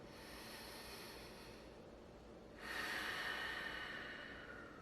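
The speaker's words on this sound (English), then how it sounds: "I close my eyes, and I just take a few deep breaths" Slow, deep breaths taken with eyes closed, a quiet long inhale followed by a louder, airier exhale, close and soft with no talking.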